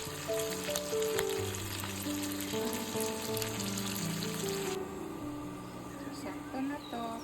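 Pork browning in a pan with tomato, ginger and garlic, a steady sizzle running throughout with music and a voice over it and a brief shift in tone partway through.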